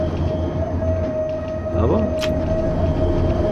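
A tram runs along its track in the LOTUS tram simulator video game, a steady rumbling drone with a constant motor whine and a brief squeal partway through, while someone talks over it.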